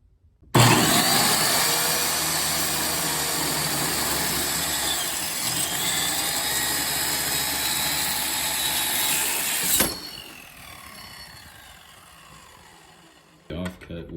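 A saw cuts freehand through aluminium tube for a bike frame, a loud sustained high whining grind for about nine seconds that drops off abruptly, then a quieter whirring spin-down and a short clatter at the end.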